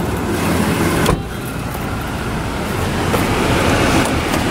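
Power rear window of a truck with a mega cab sliding, a steady close electric motor whir under broad noise, with a brief shift about a second in and no talking.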